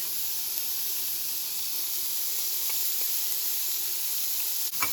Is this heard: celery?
yes